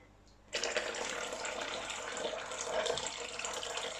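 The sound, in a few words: lukewarm water poured into pretzel dough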